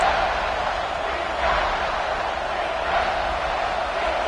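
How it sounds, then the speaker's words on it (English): A football stadium crowd roars in a broad, sustained wash of cheering and noise, backing the defense in the red zone, with no single voice standing out. "the crowd coming to life here, trying to help this defense down in the red zone"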